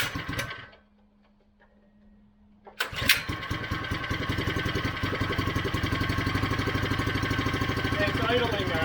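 A Powercar Thunderbird Jr small engine catches after a brief quiet pause, then settles into a steady, rapid putter at idle, loud and close.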